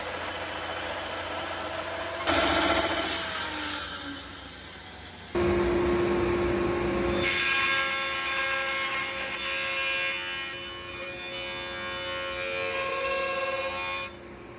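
A heavy 400-pound Yates band saw with a flywheel, fitted with carbon steel blades, resaws wood in a workshop: a steady motor hum joined by a harsher, bright cutting rasp as the blade bites, continuing at moderate volume.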